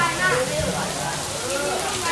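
Rain falling steadily outdoors, a dense, loud, continuous hiss and patter filling the whole moment without letup.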